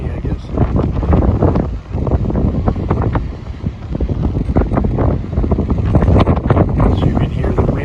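Gusty wind buffets the microphone outdoors on a foggy day at a coastal rock formation, loud continuous rumbling with irregular surges, and a voice talks over it.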